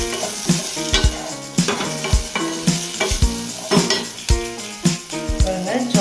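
A spoon stirs a chilli egg mixture in a hot frying pan, making rhythmic, repeated scrapes and clanks over a constant loud sizzle, close and with no talking.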